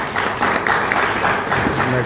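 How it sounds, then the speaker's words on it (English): An audience applauds a speaker at a talk, a steady wash of many hands clapping at an even level throughout, with a voice speaking over it. "Let's give him another hand of applause."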